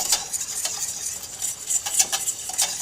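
Pork and Swiss chard are stirred in a pot over gentle heat, with a soft simmering hiss under close, repeated scraping and clinking of a utensil against the pot.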